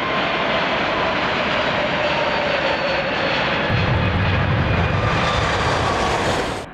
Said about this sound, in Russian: Новейший среднемагистральный авиалайнер расправляет крылья, набирает скорость и взлетает в небо.